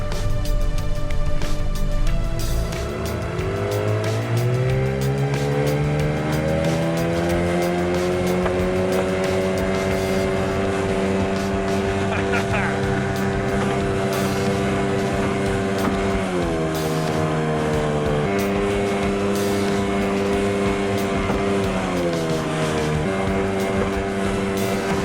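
Boat with an outboard motor and hydrofoil running on water, the engine droning steadily and rising in pitch as it speeds up, with a couple of throttle shifts later, close and continuous.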